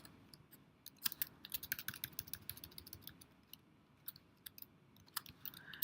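Quiet, close typing on a computer keyboard while writing a code comment, a run of irregular light clicks and key taps spread across several seconds with no talk.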